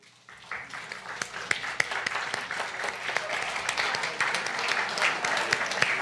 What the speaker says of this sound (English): let us give you a nice round of applause